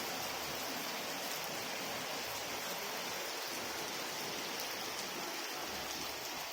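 Heavy rain falling in bright sunshine, a dense, steady hiss of drops hitting surfaces all around, loud and unbroken for several seconds with no voices.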